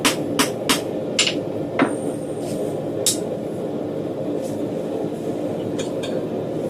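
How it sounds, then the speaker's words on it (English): A blacksmith's forge roars steadily and loudly through the clip, broken by several sharp metallic clangs at irregular intervals while a one-piece knife is forged. "the sound of the forge is probably very loud right now"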